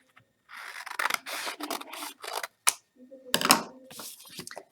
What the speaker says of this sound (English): put them together, cut them at the exact same time